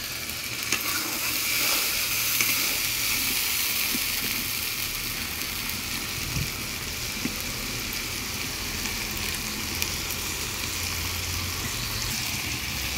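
Food frying in a pan over a clay stove, an even, continuous sizzle with faint crackles and occasional stirring clicks, close and steady for over ten seconds, no voices.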